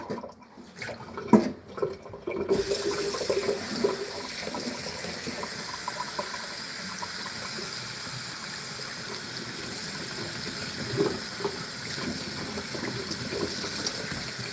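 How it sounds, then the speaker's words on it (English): Water runs from a tap into a container, starting with a few clunks and splashes, then settling into a steady rushing hiss that continues close and fairly loud. "So I'm just filling this thing up with water"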